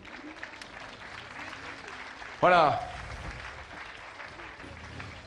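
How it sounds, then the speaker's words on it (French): Crowd applause at the Le Mans 24 Hours parade runs as a soft, steady wash under a brief spoken word and a sudden loud burst of noise partway through, then continues faintly. "vous pouvez mettre des applaudissements"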